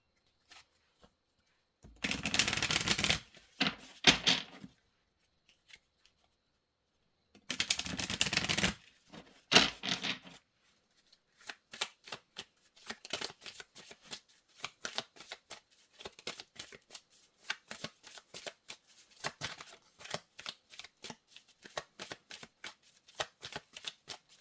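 The Universal Folk Oracle deck is shuffled in two loud, close bursts of riffling, each followed by a pause, then a longer run of rapid, crisp card flicks and taps.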